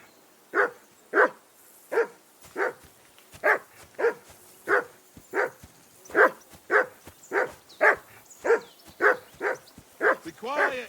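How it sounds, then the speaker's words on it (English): A dog in the medieval game Kingdom Come Deliverance 2 barks repeatedly and steadily, about a dozen loud close woofs in even rhythm, ending with a short whimpering yelp. "Henry, that barking's driving me nuts"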